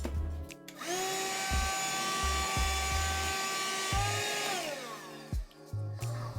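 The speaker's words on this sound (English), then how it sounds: "it's a Ryobi dust buster that uses the same batteries as my drills" A Ryobi cordless handheld dust buster vacuum runs as a steady whine close by for about five seconds, with a few short thumps and knocks around it. Its pitch sags as it shuts off.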